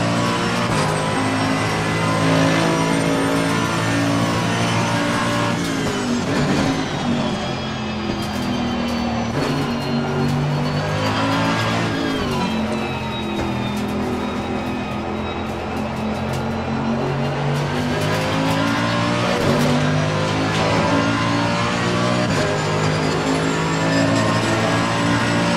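A Mercedes AMG GT3 race car in Assetto Corsa Competizione at Silverstone roars steadily at high revs, the engine note climbing and dropping through gear changes with no break, loud and close throughout.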